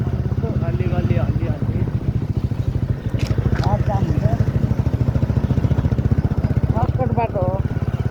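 A motorcycle rides an off-road shortcut, its engine throbbing steadily and close with a rapid, loud pulsing beat throughout, while someone talks over it in bursts.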